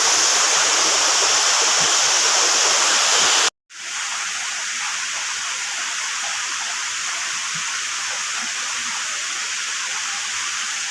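Continuous loud rush of a river waterfall in Rizal, Philippines, broad and steady, briefly cut to silence for a moment before resuming just as strongly.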